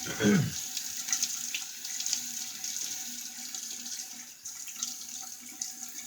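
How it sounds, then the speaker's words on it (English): Tap water runs steadily into a bathroom sink while a man wets his face before a wet shave, a continuous close hiss with a brief vocal sound at the start. "Let me get my face wet."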